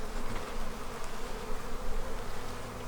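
Honey bees buzz in a dense, steady drone around the entrance of a busy beehive, many insects humming close by without pause.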